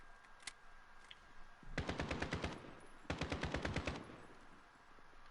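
Two bursts of rapid automatic fire from an Uzi submachine gun in Call of Duty: Modern Warfare, each roughly a second of evenly spaced shots, loud and sharp over a quiet game background.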